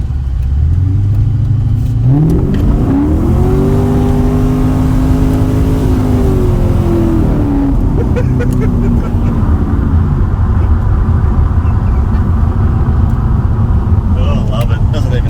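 A car engine in a rough, loud tonner build revs hard and accelerates, its pitch climbing steeply and then holding a roaring drone up close for the whole stretch, with voices faintly under the noise.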